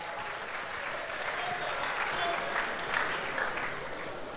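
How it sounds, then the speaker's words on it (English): Steady crowd applause filling a great hall during a meeting of organised labour representatives, dense continuous clapping with no voices over it. "A round of applause for lawyer Evans Amankwa."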